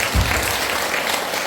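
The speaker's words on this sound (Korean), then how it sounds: "박수 한번 쳐주시죠" Brief, dense applause from a congregation at a Catholic Ascension Day mass, loud and close for just over a second.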